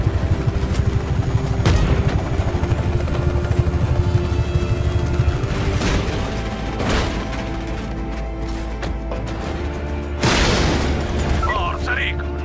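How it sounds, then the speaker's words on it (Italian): Attack helicopters in the video game Just Cause 3 bring a steady rotor drone punctuated by loud explosive booms and bursts of gunfire, with a voice speaking over the combat. "Elicotteri, attenzione!"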